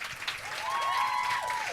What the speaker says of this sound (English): Please welcome on stage with a big round of applause